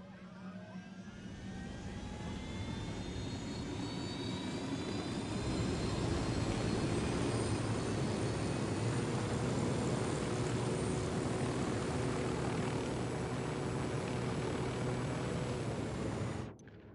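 Aircraft engine of a rebel vehicle piloted in a PS4 game, a steady loud whine and roar building over the first seconds, holding, then cutting off abruptly near the end, with no talk.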